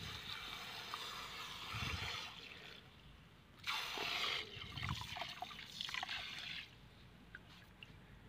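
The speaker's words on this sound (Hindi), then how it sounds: "तरह से आप इसमें पानी भरते जाएं।" Water is poured into a container holding pea seedling roots, a steady close trickle and splash with brief louder gushes, heard alone without talk.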